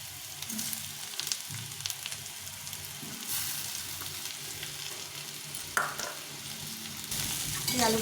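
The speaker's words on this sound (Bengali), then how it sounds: "এই আলুগুলো সেদ্ধ করে নিয়েছি আলুগুলো একটু মেশ করে দেবো" Boiled potatoes being mashed in a pan over a very low flame while making chickpea ghugni, with a continuous soft sizzle, dull pressing and scraping strokes, and one sharper knock near the end.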